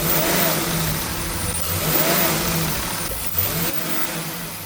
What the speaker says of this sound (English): crank this thing over, put it in drive, and just give it a little gas